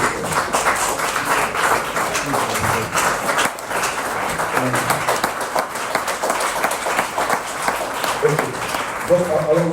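Congregation applauding during a French-language church sermon, a dense, steady patter of many hands clapping that runs throughout at a moderate level, with voices mixed in beneath it.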